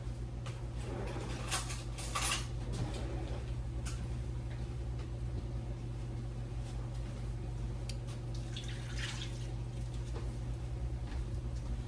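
A can of green beans is opened and drained, with faint metallic clicks, light clinks and dripping against a steady low room hum, quiet and close.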